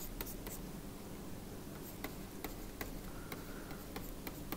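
Marker or chalk scrapes across a classroom board while a chemistry lesson is written out. Short strokes and taps come irregularly over a steady hum of room noise, with no voices.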